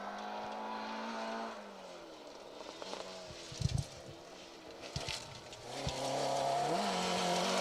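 An Opel Corsa rally car's engine revs repeatedly and rises in pitch as it works through gears on a forest rally stage, heard from a distance at moderate volume.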